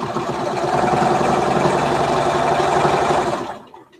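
A sewing machine runs steadily, stitching a 3/8-inch seam through a quilt block, its fast mechanical whir continuous and close for about three and a half seconds before stopping.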